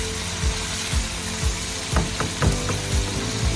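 Mutton karahi sizzling in a wok over medium heat, a steady close frying hiss with a regular tapping or scraping rhythm on top, no voices.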